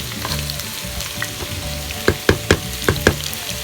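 Pork sizzles steadily in a pan for pocherong baboy, a close, dense frying hiss with several sharp clanks of a utensil stirring the meat near the end.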